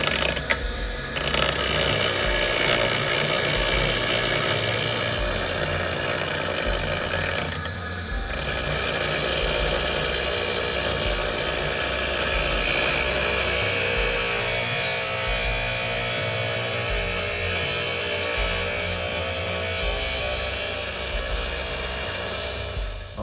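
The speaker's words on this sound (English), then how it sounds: "just take the grinder and slice that off." An angle grinder slices off the end of a clamped motorcycle shift lever for a 1982 XR200R: a loud, continuous high whine with a brief dip partway through, close and alone.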